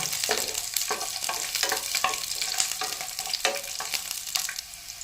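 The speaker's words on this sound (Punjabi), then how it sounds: "ਤੇਲ ਗਰਮ ਹੋ ਗਿਆ ਜਿਹਦੇ ਵਿੱਚ ਪਾ ਦਿੰਦੇ ਆ ਲਸਣ ਲਸਣ ਨੂੰ ਬਸ ਹਲਕਾ ਜਿਹਾ ਇਹਨੂੰ ਭੁੰਨ ਲੈਣਾ" Garlic frying in hot oil for an eggplant and tomato curry, a steady close sizzle broken by repeated spatula stirs and scrapes, with no talking.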